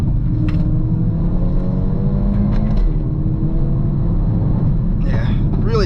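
A 2025 Hyundai i30 N pulls hard under acceleration, a loud low engine drone rising through the gears, heard from inside the car, with brief voice-like sounds near the end.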